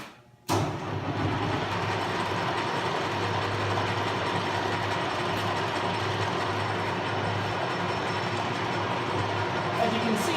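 Sheldon metal lathe with variable speed drive starting up and then running steadily, a loud close motor hum and mechanical whir that holds even throughout.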